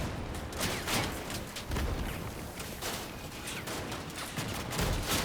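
Weapon fire from the vehicle combat game Crossout, a rapid barrage of distant booming and rattling shots that runs continuously under a busy battle din.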